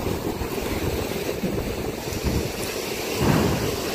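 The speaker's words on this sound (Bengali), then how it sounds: "ঢেউটা একটু কমই দেখা যায়।" Sea waves wash and rumble steadily on a beach near Chennai at dusk, mixed with a constant rush of wind buffeting the microphone.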